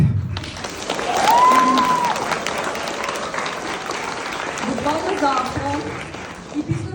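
At a school end-of-year event in a late-night-show format, audience applause swells loudly and then tapers off, with a voice and brief whoops over it near the start.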